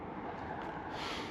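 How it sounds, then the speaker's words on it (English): A train passing near a golf area in Burntisland, Scotland: a continuous broad rumble and rush that stays fairly constant over a brief stretch, heard alone. "No, sorry, what cars? This is a train."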